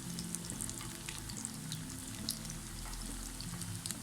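Aloo tikki potato patties, made without egg, shallow frying in a pan, a soft continuous crackle with faint scattered pops, fairly quiet and steady with no voices.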